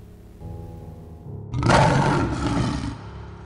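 A big cat's roar, used as a sound effect for a large tiger, swells suddenly out of a quieter droning background, then holds as a loud, rough, sustained growl before easing slightly.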